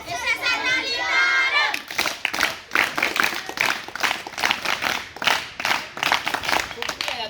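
Students in a classroom clap together loudly after a teacher's physics explanation, a run of sharp, rapid claps that follows a brief spoken line and stays fairly close and lively.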